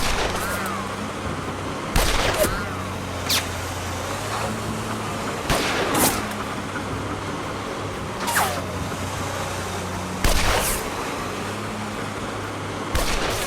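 Rockets fired in the video game Lost Horizon: repeated heavy booming blasts every couple of seconds, some doubled, over a constant low background rumble, with no talking.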